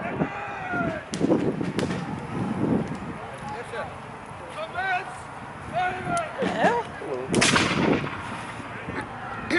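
Breech-loading rifles fire steady volleys in a drill, sharp cracks scattered unevenly across the clip at moderate distance over wind and crowd murmur, with people talking throughout.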